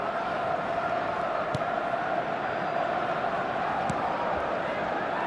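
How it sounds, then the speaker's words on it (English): A stadium crowd in a football video game roars in a steady, dense wash of cheering that holds at an even level throughout, with a couple of faint clicks over it. "Certainly gave this crowd something to really cheer about."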